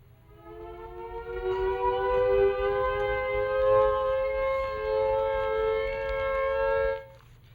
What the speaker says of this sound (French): Le haut commandement lance l'alerte et instantanément, les sirènes de quartier répondent.